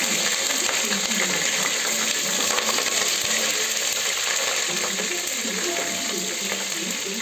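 Mustard seeds and cumin sizzle in hot oil for tempering, a dense crackling hiss with rapid popping, steady and fairly loud throughout.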